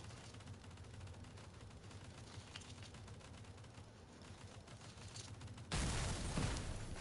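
Turret guns on a vehicle in the video game Crossout, faint mechanical clatter giving way near the end to a loud, dense burst of sustained rapid fire.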